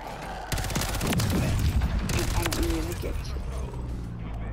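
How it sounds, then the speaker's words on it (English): Rapid bursts of SMG gunfire from the Modern Warfare 3 multiplayer game, close and loud, overlapping with mechanical clicks, footsteps and shouting voices in a busy firefight. "Nine shots."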